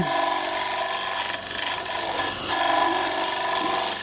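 Woodturning gouge cutting wood on a lathe, a steady, loud, dense scraping cut with a ratcheting texture that dips briefly mid-way and then resumes, heard alone without talk.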